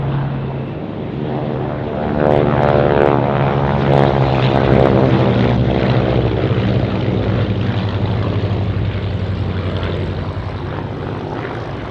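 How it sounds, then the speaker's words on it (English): A Supermarine Spitfire fighter plane flies past, its piston engine a loud, steady droning roar with a low throb that swells and then holds. "Spitfire Supermarine."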